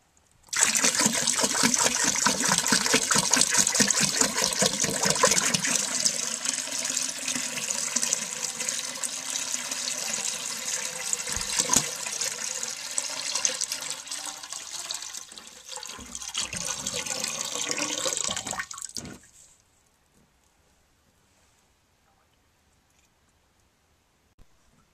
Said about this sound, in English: aim the refill tube into the jug, flush the toilet, and see how much water comes back to the jug